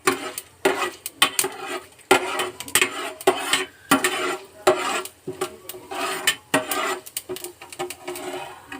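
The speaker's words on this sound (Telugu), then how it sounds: "ఇలా వేపుకోవాలి పోపు దినుసులు." Tempering spices fry in hot oil in a kadai while a spoon scrapes and stirs them in steady, rhythmic strokes, loud and close, with no voices.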